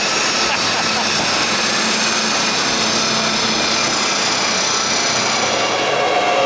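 A BMW M140i with a new exhaust running hard on a dyno, giving a loud, dense, continuous roar that holds steady for several seconds.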